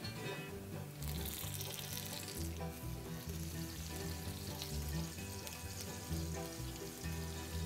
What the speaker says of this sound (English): Melt your half a stick of butter.